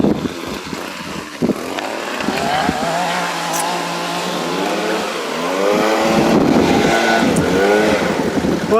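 Landscapers' power equipment, such as a leaf blower or trimmer, drones loudly outside on a hot day, with engine pitch rising and falling as it revs in steady waves.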